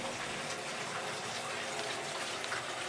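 Water gushes and swirls down a sink drain in a continuous, fairly loud rushing and gurgling wash.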